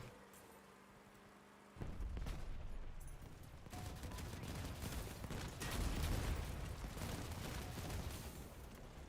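Enemy gunfire in a video game, a dense burst of rapid shots and booms starting after a quiet opening and continuing loudly, mixed with vehicle rumble as the player drives away.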